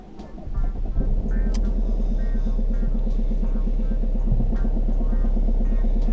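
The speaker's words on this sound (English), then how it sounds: "you're going to start the car, obviously, with all electronics off" A car engine runs on a snowy day, a steady low rumble with a faint rhythmic pulse holding throughout, with a few light clicks and knocks over it.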